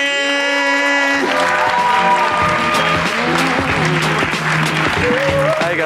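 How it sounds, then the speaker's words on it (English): An audience at a comedy showcase bursts into loud, sustained applause and cheering, with a crowd of clapping hands filling the room for several seconds after a short sustained musical tone. "Give it up right now for Owen Gillihan"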